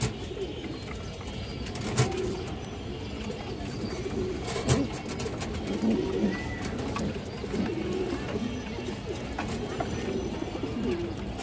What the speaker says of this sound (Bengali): পিছনেটা নর, সামনেটা মাদি কবুতর দর্শক